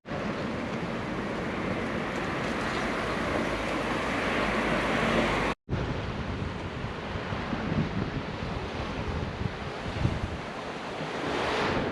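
Mediterranean Sea waves wash onto a small Italian beach under strong wind, a loud, continuous roar of surf and buffeting gusts hitting the microphone, with a brief cut midway and no voices.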